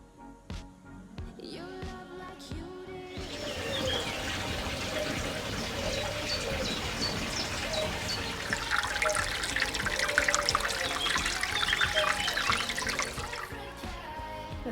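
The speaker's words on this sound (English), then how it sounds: "So in all the little patches, they're dripping fine." Water runs and trickles from drip irrigation lines in a polytunnel, a steady wet hiss lasting throughout after a few soft knocks at the start.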